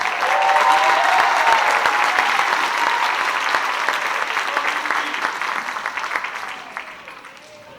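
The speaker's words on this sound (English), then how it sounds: "Let's give them a round of applause" Audience applause for a school wind ensemble at a concert, a full, dense round of clapping that holds strong, then gradually tapers off and dies away.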